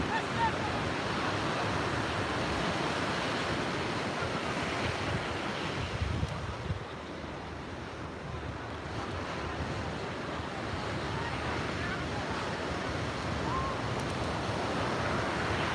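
Ocean surf at Umzumbi flats, a constant heavy roar of waves washing ashore with gusting wind noise over the microphone, steady and dense throughout with no distinct individual breaks.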